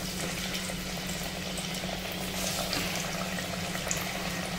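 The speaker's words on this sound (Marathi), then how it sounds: "छान अशी पॅटीस आपल्याला तळून घ्यायची आहे" Matar patties dropped into hot oil for deep-frying, giving a steady, dense bubbling sizzle with an even level throughout and no talking.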